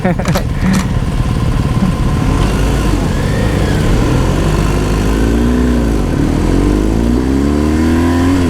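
A motorcycle roars fast along a highway on a Bangkok to Chiang Mai road trip, its loud engine and wind rush continuous, with rising and falling revs as it accelerates.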